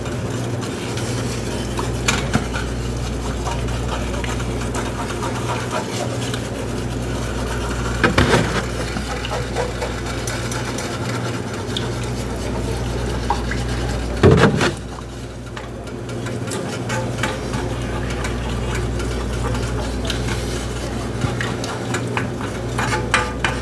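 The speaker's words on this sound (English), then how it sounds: "Now just work at the flour and grease into your milk" Flour and bacon grease are stirred into milk in a pan for country gravy, a continuous scraping and stirring over a steady low hum, close and moderately loud, with occasional louder knocks of the utensil against the pan.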